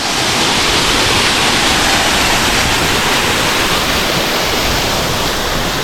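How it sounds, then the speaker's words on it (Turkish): A waterfall in Peru roars loudly and steadily at close range, a dense unbroken rush of falling water with no other sounds cutting through. "Burası da dediğim şelale."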